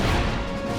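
Fire spell cast in Kingdom Hearts, a short dense crashing burst of flame sound, loud and close, lasting under a second.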